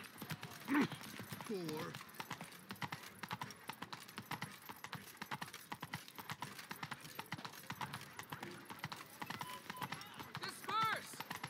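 Roach the horse's hooves clip-clop in a steady walking rhythm through The Witcher 3, with a brief whinny near the start and another toward the end, while a voice speaks briefly over the hoofbeats.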